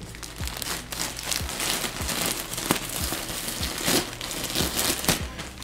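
An ASOS clothing package being torn open: continuous loud plastic crinkling and crumpling close up, with sharp rustles and tearing snaps scattered throughout and no talk.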